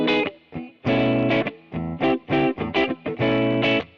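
A distorted Gibson Memphis Larry Carlton ES-335 electric guitar on its bridge pickup plays short, punchy chords and notes in a choppy rhythm, bright and gritty, with brief gaps between strikes.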